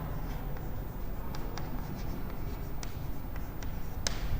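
Chalk or marker strokes on a classroom board during a genetics lesson, a steady scratchy scraping with a few sharper taps, close and continuous with no talking.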